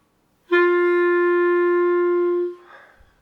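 A single sustained reed note begins with a crisp tongued attack, holds steady for about two seconds, then stops with a soft breathy release.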